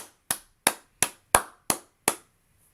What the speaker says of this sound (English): Let me start what I'm doing and give Fagon a hand clap